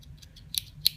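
Leatherman Surge multi-tool scissors snapping shut, two sharp metallic clicks close by, the second louder, over a faint low hum with no voices.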